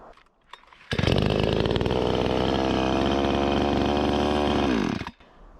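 A Matsumoto gasoline chainsaw starts up with a sharp roar and runs at a steady, loud, buzzing idle for about four seconds before cutting off abruptly.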